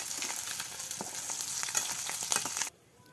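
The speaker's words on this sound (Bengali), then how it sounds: "তেল গরম হয়ে গিয়েছে ডিম দিয়ে দিল" Egg dropped into hot oil for frying in a village kitchen, giving a loud, steady sizzle and crackle that cuts off abruptly near the end, with no talk over it.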